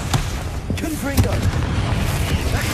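Confringo explosive spell cast in Hogwarts Legacy, a sharp booming blast followed by rumbling debris within dense combat noise, with a voice speaking over the near, loud action.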